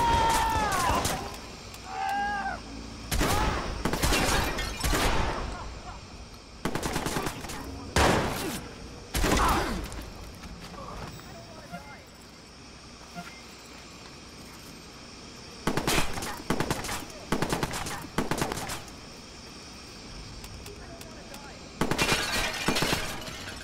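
Gunfire in a street shootout in the video game Watch Dogs, a series of loud sharp volleys in clustered bursts with pauses between them, mixed with shouting voices and game ambience.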